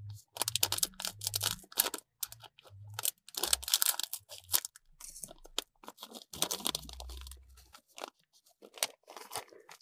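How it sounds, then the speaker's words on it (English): A Pocky strawberry biscuit stick packet is cut and torn open, giving a run of close, crisp crinkling and crunching bursts with short pauses between them and no talking. "So let's cut this packet."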